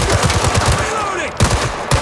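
Rapid automatic gunfire from a machine gun in the video game Gangster Mirage City, loud and close, with dense repeated bursts running the whole time and a brief gap before the shooting resumes.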